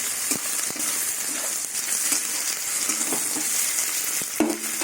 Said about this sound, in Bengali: পেঁয়াজ রসুন ভাজা হয়ে গেছে, এবার টমেটো দিয়ে দেবো, এবার আদা দিয়ে দেবো